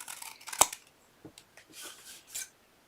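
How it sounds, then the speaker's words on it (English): Scissors snip through paper in a few crisp cuts, one sharp and loud, followed by softer rustling snips at close range. "I'm just going to cut my triangle with my scissors"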